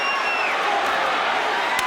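Boxing arena crowd on its feet roaring and cheering through the final seconds of the Sugar Ray Leonard vs Thomas Hearns rematch, a dense continuous wall of voices with a few whoops, steady and loud throughout.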